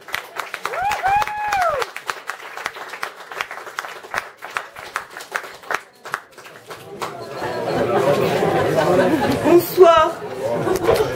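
Studio audience clapping for a French singer on a 1975 television variety show, starting as scattered claps under chatter and swelling into fuller mid-distance applause toward the end, mixed with crowd noise.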